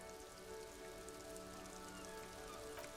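Steady rain falling at locked industrial harbour gates beside metal shipping containers in the video game Disco Elysium, a dense continuous patter and hiss at moderate volume with no voices.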